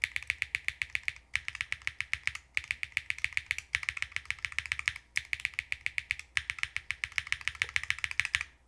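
Typing on a custom Hall effect keyboard with PBT keycaps gives rapid, even bursts of deep plasticky clacks, close and clear, with brief pauses between runs of keystrokes.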